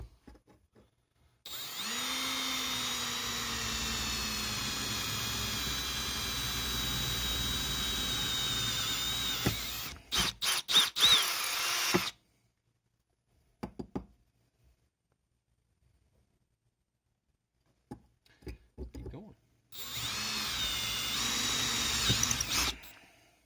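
A power drill bores holes through the baffle of an Echo SRM 260 weed wacker muffler, with a long steady whining run, a pause with clanks and handling noises, then another loud burst of drilling.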